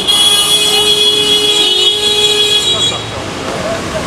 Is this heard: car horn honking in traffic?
yes